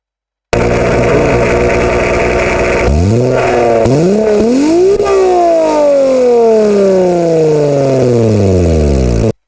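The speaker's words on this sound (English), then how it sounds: "Much happier engine." A simulated engine in the Engine Sim game restarts after a timing change, running loud and steady, then revving up in rising sweeps and settling into a long falling decay, with no talking.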